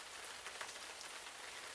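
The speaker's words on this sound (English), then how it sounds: "Rain spattered Theo's heavy work boots as he frowned at the big delivery truck" Steady rain drumming and spattering on hard surfaces, a dense, even wash of drops close by, continuous for the whole stretch with no voices.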